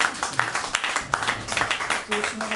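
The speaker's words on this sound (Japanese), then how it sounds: "皆さん拍手を" Applause from a live concert audience at a small music venue, dense overlapping claps with voices heard underneath, loud and close throughout.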